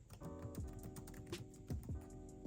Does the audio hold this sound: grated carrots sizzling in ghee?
no